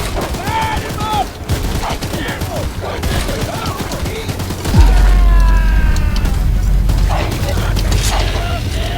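Heavy gunfire aimed at Charles, the monstrous train in Choo Choo Charles, rapid booming shots and mechanical clatter mixed with excited shouting voices and a deep rumbling engine.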